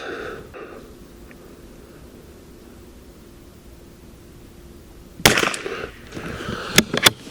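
A single .22LR rifle cold bore shot at an outdoor range breaks a quiet stretch with one sharp, close crack, followed by a few brief clicks and handling noises.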